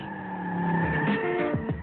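A car passes by, its engine hum swelling and then sweeping down in pitch as it goes past, fairly close and heard with no talk.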